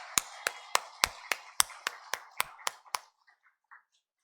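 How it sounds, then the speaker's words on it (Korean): Clapping in a church service: about ten sharp, evenly spaced claps ring out close and clear, then a few faint scattered ones trail off into quiet. "우리 하나님께 영광의 박수 올려드리겠습니다"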